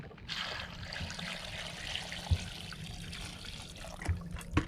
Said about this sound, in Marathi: मित्रांनो आता आपण आहे स्वच्छ पाण्यामध्ये धुवून घेणार आहोत